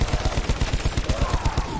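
Rapid automatic gunfire from a weapon in Black Ops 4 zombies mode, a steady rhythmic burst of evenly spaced shots running the whole time, loud and close with game sounds behind it.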